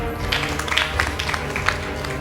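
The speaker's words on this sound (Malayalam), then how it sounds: "നമുക്ക് എല്ലാവർക്കും നല്ലൊരു കയ്യടി കൊടുക്കാം." Audience applause at a Christian Bible quiz grand finale, following a cash prize presentation: steady, dense clapping from a hall crowd, sustained evenly across the whole moment with no talk over it.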